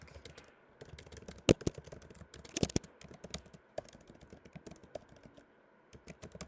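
Close computer keyboard typing, with irregular bursts of clicky keystrokes broken by short pauses and a few louder, sharper key hits, and no voices.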